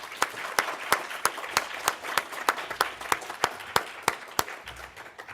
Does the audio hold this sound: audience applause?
yes